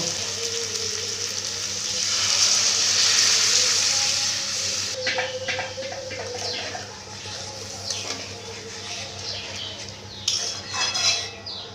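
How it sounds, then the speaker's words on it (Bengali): Boiled milk poured into a pan of pointed gourd curry, a steady liquid pour with sizzling that settles into soft clinks and stirring scrapes of a utensil against the pan. "এবারে ফুটিয়ে রাখা দুধ দিয়ে দিব"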